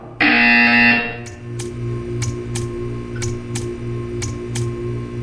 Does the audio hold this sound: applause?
no